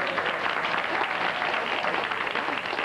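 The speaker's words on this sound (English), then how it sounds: "please clap" A radio show's studio audience claps in a steady, moderately loud wash of applause with no voices over it.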